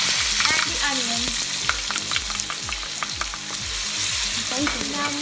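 Onions frying in hot oil with jeera and coriander, a vigorous close sizzle full of crackles and pops, with stirring scrapes now and then and no speech.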